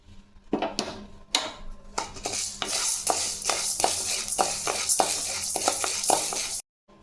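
Dry spices, black pepper and cumin, are stirred and roasted in a pan, with repeated scraping and rattling strokes that keep a steady rhythm for several seconds before stopping abruptly.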